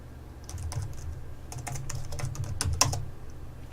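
A computer keyboard clatters as a command is typed in a couple of quick bursts of close key taps, with a sharp final keystroke and a quiet room hum underneath.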